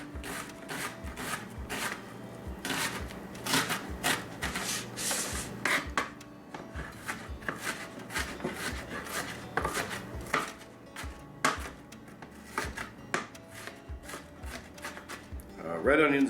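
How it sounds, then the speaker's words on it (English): A sharp knife chops an onion on a board in a home kitchen, with fast, irregular, close tapping and scraping strokes continuing throughout, and a voice speaking faintly at times. "we've got the onion chopped"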